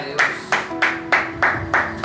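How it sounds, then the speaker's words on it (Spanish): A church congregation claps together in a steady, rhythmic beat, with sharp, evenly spaced bursts roughly three times a second over a faint sustained tone. "No le dan un aplauso al Señor."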